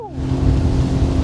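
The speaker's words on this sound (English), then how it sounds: "you hear that engine in the back? It sounds so good." Sea-Doo Fish Pro personal watercraft engine running out on the water, a steady close, loud droning hum with a faint pitch sweep at the start, continuous throughout with no talk.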